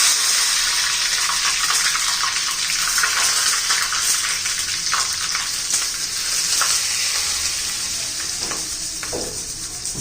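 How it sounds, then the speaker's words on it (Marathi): Mustard seeds and curry leaves sizzle in hot oil, a steady, loud, bright frying hiss with crackles and pops that continues without a break, no voice over it. "आम्ही आता तेल गरम करून घेतलेलं आहे थोडीशी मोहरी घालू एक चमचा कढीपत्ता घालून"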